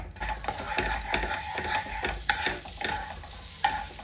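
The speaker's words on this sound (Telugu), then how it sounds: "మళ్ళీ సేమ్ పాన్ పెట్టేసుకొని కొంచెం బటర్ వేసేసుకుందాం బటర్ వేసుకొని ఇది కరిగిపోయిందాక ఉంచుకొని" Butter melts in a hot pan for a restaurant-style white sauce pasta, giving off a soft sizzle. Repeated close scraping and knocking, like a utensil moving across the pan, runs through it in a fairly even rhythm.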